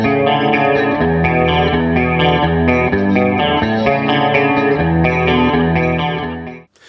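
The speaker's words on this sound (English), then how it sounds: "So I'm going to start off with my clean sound." An electric guitar played through a Marshall DSL-40 on its clean channel with heavy 80s-style chorus and echo effects, loud shimmering chords ringing continuously before cutting off at the end.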